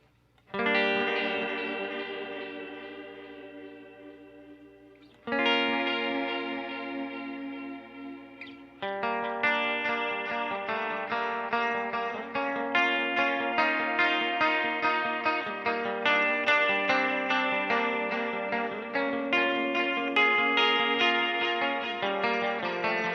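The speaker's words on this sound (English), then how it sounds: "this is going to be a classic old digital delay" Line 6 DL4 MKII delay pedal on a sustained chordal instrument, set to a classic digital delay with light modulation: layered, shimmering chords swell and overlap with repeating echoes and a gentle warble, loud and steady with no talking.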